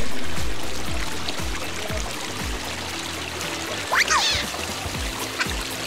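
A fairly big river rushes past at a hiking crossing near Kolob Canyons in Zion National Park, a loud steady flow heard close by with a brief splash partway through.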